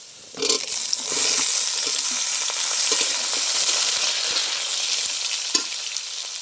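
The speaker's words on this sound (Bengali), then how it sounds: "এবার আমি কেটে রাখা ঝিঙে দিয়ে দিচ্ছি।" Chopped ridge gourd added to fried potatoes in a pan for jhinge aloo posto, a sudden burst of loud sizzling that settles into steady close frying, with occasional light stirring clicks.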